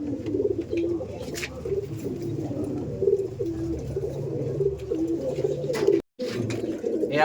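A Madrasi pigeon pair of the Jiria type gives repeated throaty coos in a steady rhythm, close and fairly loud, with other pigeons murmuring in the background.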